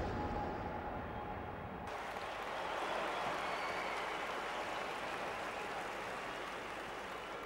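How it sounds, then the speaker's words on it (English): Crowd cheering and applauding at a London 2012 Olympics event: a broad, steady wash of applause and cheers from a large arena audience, sustained throughout and heard without commentary. "Crowd responding to that."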